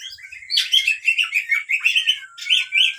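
Oriental magpie-robin sings a rapid, varied run of bright whistles and chirps, close and clear with no other sounds, in short phrases that continue without pause.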